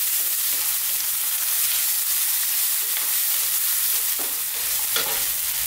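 Sliced mushrooms tossed in a pan just below medium heat, giving a continuous close sizzle with occasional scraping stirs and no speech.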